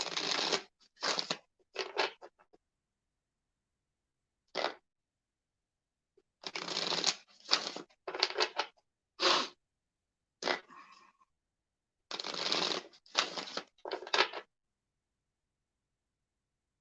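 Playing cards are riffled and shuffled in several quick bursts, close and crisp, separated by short silent pauses.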